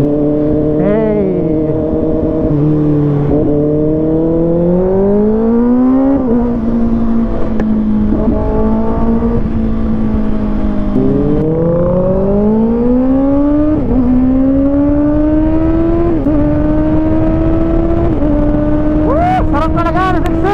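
A Kawasaki ZX6R motorcycle engine runs loud and close while riding, its tone climbing and dropping through repeated revs and gear changes, a continuous buzzing roar over wind rush.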